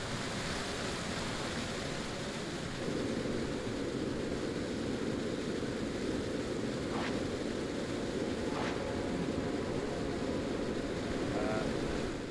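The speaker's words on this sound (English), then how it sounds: "We're under a waterfall." A waterfall on the mountain in the video game Project Zero V: Maiden of Black Water, a steady, loud, unbroken rushing roar that fills the whole stretch with no talking.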